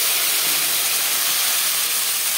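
A spice paste hits hot oil with fried bay leaf and five-spice seeds, giving a loud, steady, broadband sizzle that hisses evenly throughout without a break.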